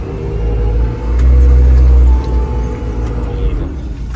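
A JCB 527-58 agricultural telehandler drives after a shift into the faster gear, its engine producing a steady close low rumble that swells briefly and then settles into an even drone.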